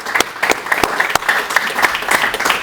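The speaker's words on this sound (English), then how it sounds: "Big round of applause for our panel." Loud close-up clapping for a panel on parenting and shalom, fairly sparse individual claps in a loose irregular rhythm rather than a thick crowd roar, with no talk.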